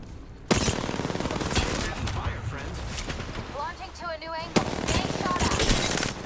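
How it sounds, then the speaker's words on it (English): Rapid automatic gunfire in a shooter video game: dense, loud bursts of shots with a sharp impact and a brief pause in the middle, while someone talks over the action. "Getting shot at."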